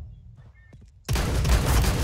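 A shotgun fires in Counter-Strike during a one-on-one match: a sudden loud, dense blast breaks in halfway and rolls on as sustained gunfire noise, after a quieter stretch of faint game sounds.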